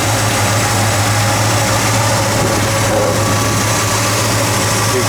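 A 1966 Ford Mustang coupe with a C-code V8, originally two-barrel and now fitted with a four-barrel carburetor, idles steadily with a loud, even low rumble and constant mechanical vibration, close up and uninterrupted.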